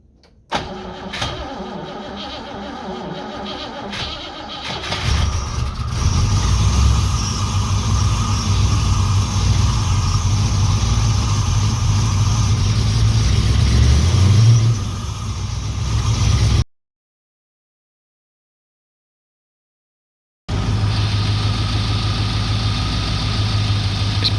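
A 4.6-litre Rover V8 in a Rover SD1 cranks and fires on a rolling-road dyno, then runs loudly and steadily with a deep rumble, revving briefly before a sudden gap of silence and resuming.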